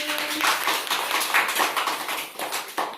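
Children in a classroom clap together, a burst of quick, close, uneven hand claps that continues for about three seconds with no talking.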